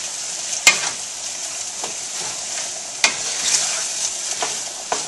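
Black beans are stirred into a frying pan with warm ham, a steady bright sizzle with a few sharp utensil scrapes and clicks against the pan, close up and without talk.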